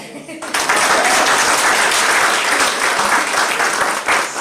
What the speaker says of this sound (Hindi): एक बार दोबारा तालियां।